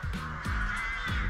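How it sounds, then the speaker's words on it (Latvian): Several crows cawing repeatedly near a tidy rest area in Utena, harsh calls overlapping in an irregular burst pattern at close range. "Pilns tajā vārnām. Tās viss kliedz."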